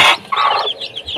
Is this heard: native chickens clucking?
yes